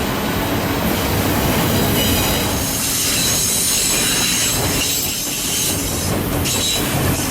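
A CSX Q211 autorack freight train rolls past close by in March 2020, its wheels squealing steadily over a loud, continuous rumble of rail cars, with no talking.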